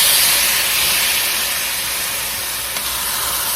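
Beef hitting a hot pan with sautéed garlic and chopped onion for Filipino bistek, giving a steady, loud broadband sizzle and hiss that holds evenly throughout with no talking.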